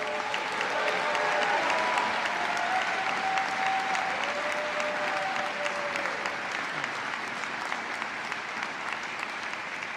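At a diversity breakfast, an audience applauds student Pride Award recipients with sustained, moderately distant clapping that continues evenly for several seconds, a faint tonal whistle drifting through it.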